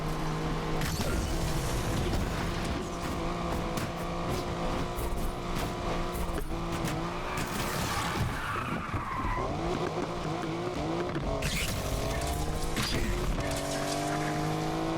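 Car in the racing game Need for Speed Unbound skidding and swerving, with sustained loud tire squeal and engine roar through most of the run, sliding pitches rising and falling as the car breaks loose again and again.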